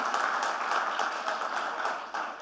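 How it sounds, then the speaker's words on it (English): Audience applause at a manufacturing industry conference in India, a dense, steady wash of many hands clapping that holds evenly and tails off slightly at the end. "Can we have a loud round of applause"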